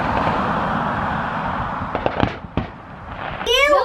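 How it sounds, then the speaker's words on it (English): Independence Day fireworks and firecrackers pop and crackle, with a steady rush of distant bursts and a few sharper nearby bangs, and a voice briefly heard at the end. "Fireworks have begun."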